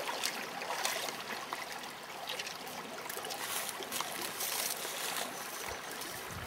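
Creek water flowing steadily in the open while watercress is harvested, a continuous broadband rush and trickle with no clear break, fairly close and even in level throughout.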